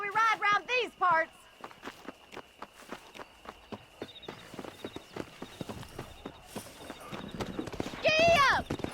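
Horse hooves clip-clopping at a walk and trot in the Red Dead Redemption game, a steady run of fairly close hoofbeats under stretches of talk, with a whinny-like call near the end.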